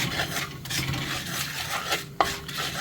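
Inchi curry for a sadya being stirred with coriander powder in a pan, a close rasping scrape of a spoon against the pan with a sharp knock near the end, no talk.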